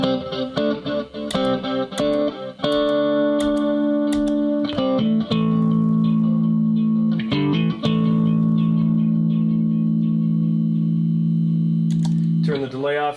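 Electric guitar played through a delay pedal on a pedalboard, picked notes and chords with trailing repeats, then a long sustained ringing chord, loud and close with no talking.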